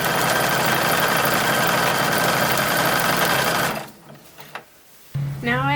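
Sewing machine stitching the neck binding on a 1930s-style dress, a loud steady running hum for nearly four seconds, then stopping, with a few faint handling sounds and a short voice at the end.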